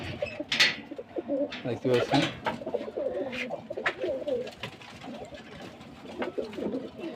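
Pigeons coo softly and repeatedly nearby while someone talks over them.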